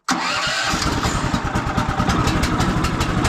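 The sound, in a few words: sawmill gas engine starting and idling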